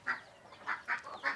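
Village ducks call out in four short, honking quacks at a steady pace, close by and fairly loud in a quiet rural yard.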